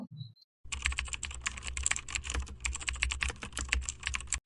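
Rapid, continuous keystrokes on a computer keyboard as an enrollment ID is typed in, close and crisp, with an irregular clatter alone after a brief pause.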